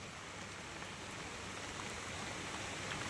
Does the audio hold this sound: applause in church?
no